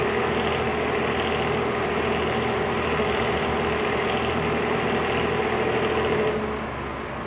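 A mid-century Penncrest floor fan running on high gives a steady, fairly loud whoosh of air with a low motor hum underneath. It holds constant throughout and eases slightly at the very end.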